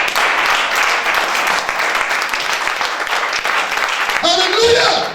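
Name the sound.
congregation applauding in church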